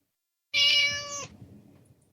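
A house cat gives one loud, close meow lasting under a second, then only faint room noise remains.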